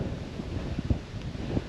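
Gusty wind buffeting a microphone, a low rumbling roar that swells and eases in short bursts.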